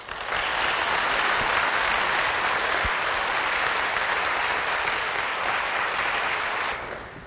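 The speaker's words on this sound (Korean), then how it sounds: "우리 장로님 나오실 때 뜨거운 박수로 영접하도록 하겠습니다." Warm, sustained applause from a church congregation welcoming an elder to the stage for a testimony, dense and even clapping throughout that swells at once and fades out near the end.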